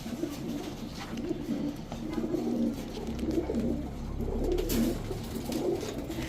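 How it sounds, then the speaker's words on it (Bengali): Rajshahi Sobji Giribaj pigeons, a high-flying tumbler breed, coo softly in a repeated low murmuring rhythm, close by and steady over faint background noise. "এখন দেখাবো রাজশাহী সবজি গিরিবাজ একটা জোড়া।"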